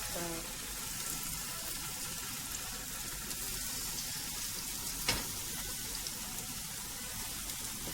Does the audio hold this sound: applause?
no